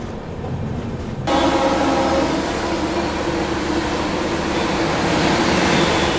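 The Vikramshila Express approaches beside another moving train: after a quieter hum, a loud, continuous rumble of rolling wheels and carriages comes in abruptly and holds steady throughout.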